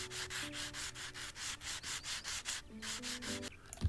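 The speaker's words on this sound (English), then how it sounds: "this actually requires a fair bit of sanding with some of the tracks being" Sanding a damaged railway track in a train station renovation game: a steady run of rhythmic rasping strokes, about a dozen back-and-forth rubs, fairly quiet with faint tonal background music.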